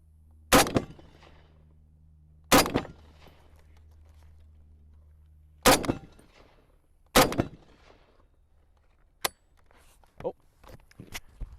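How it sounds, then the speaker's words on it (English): Springfield M1A rifle firing outdoors: loud, sharp single shots spaced a few seconds apart, followed by a quicker run of lighter cracks and clicks. "this is such a fun rifle to shoot"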